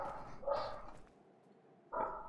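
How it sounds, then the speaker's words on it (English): An old Staffy dog barks close to the microphone, two sharp barks with a short gap between them, loud and clear with no talk over them. "Yeah, that's my dog. Can you guys hear him?"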